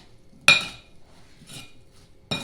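Three sharp clinks of a utensil against a bowl while apricots are mixed with lemon juice, sugar and cinnamon for a pie filling, spaced apart with quiet gaps between.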